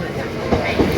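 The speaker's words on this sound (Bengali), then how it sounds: "চলে এসছে আমাদের ট্রেন চলো" A train pulls into West Ham station in London, a loud close rumble of rolling wheels with two rhythmic clacks.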